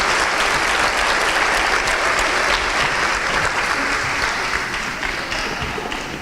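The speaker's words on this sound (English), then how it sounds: "So let's give another big round of applause for Kevin." Sustained, dense applause from an audience at a community volunteer awards ceremony in Port Coquitlam, honoring a volunteer named Kevin; steady and loud throughout, tapering slightly toward the end.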